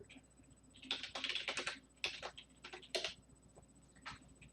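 A username and password being typed on a computer keyboard: quiet, close key clicks in irregular bursts with short pauses between them.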